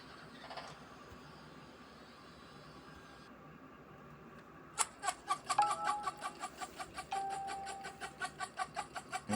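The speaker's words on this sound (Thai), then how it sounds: "เสียงไก่ หรือ เสียงอะไร ไม่ รู้เหมือนกันนะครับ" Chicken clucking sound effect from a library, entering after a few seconds of faint background and repeating in a quick, regular run of clucks that stay fairly close and clear to the end.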